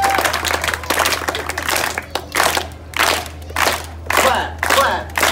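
An audience at a San Diego street show claps along in unison, giving loud, rhythmic bursts of crowd clapping that repeat in steady beats, close and dense.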